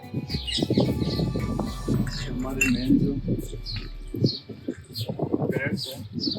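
Birds and crows chirp and call around a feeding spot stocked with biscuits, short bright tweets scattered throughout beneath someone speaking continuously in Hindi.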